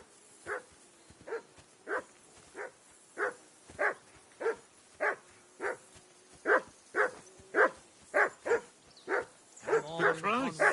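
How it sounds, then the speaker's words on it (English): Flea-bitten hounds bark in a steady, evenly spaced series of sharp woofs, moderately close, growing louder toward the end where a whimpering whine joins in. "Be quiet, you flea-bitten hounds."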